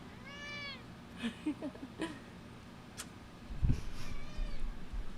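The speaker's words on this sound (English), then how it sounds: "I love the way he meows." A pet cat meowing nearby, a couple of drawn-out, wavering meows at the start and again near the end, with scattered soft knocks and a short thump in between.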